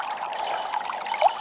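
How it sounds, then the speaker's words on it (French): A small forest stream flows steadily, with a continuous light trickling and babbling of water that stays fairly close and even throughout. "Là pareil, petit passage de ruisseau."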